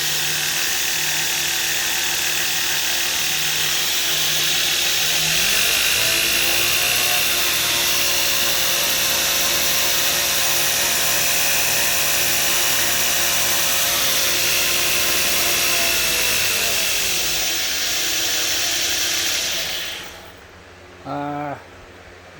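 A belt grinder in a knife forge, fitted with a used 120 grit belt, spins up to a loud, steady whirring drone. It holds for about twelve seconds, then winds down and ends with a short clatter.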